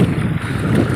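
Strong wind gusting over the sea during net fishing for lobster from a small boat, with rain approaching; a steady, loud broadband roar of wind buffeting the microphone, with water sounds beneath and no talking.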